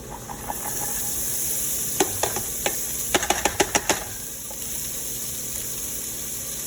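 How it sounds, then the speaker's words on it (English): Onions sizzle in hot oil in a soup pot, a steady frying hiss throughout with a quick burst of sharp stirring scrapes and clinks in the middle, close and fairly loud, no talk. "We're gonna add our onions."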